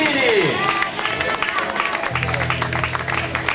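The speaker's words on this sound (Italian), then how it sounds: "con il vostro applauso per il Runner Team 99" Spectators applaud a marathon runner at the Volpiano half-marathon race, a steady wash of clapping from a roadside crowd, loud and continuous, with a voice speaking over it near the start.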